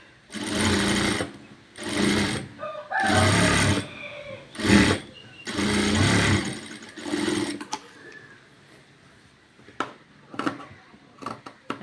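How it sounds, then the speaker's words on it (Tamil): A sewing machine stitches an A-line frock in several loud, rhythmic bursts of rapid clatter with brief pauses between them, followed by quieter handling sounds and a few sharp clicks. "தைக்கிறோம்."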